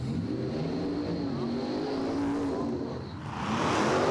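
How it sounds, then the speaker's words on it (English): A top dragster roars down the strip in a drag racing qualifying run at Empire Dragway, a loud sustained engine howl whose pitch shifts and dips briefly before surging again, heard from a distance. "Our third competitor into the 3s for top dragster qualifying."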